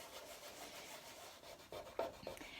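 Varnish being rubbed off a painting with light pressure: soft, faint rubbing strokes, close by, with a few sharper scrapes near the end.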